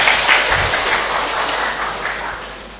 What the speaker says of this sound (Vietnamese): chúng ta vỗ tay cảm ơn Chúa ha